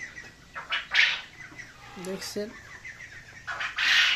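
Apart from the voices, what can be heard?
quail and other birds on a poultry farm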